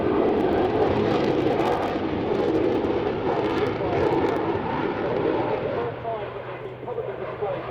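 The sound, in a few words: Spitfire and Typhoon aircraft flying in synchro display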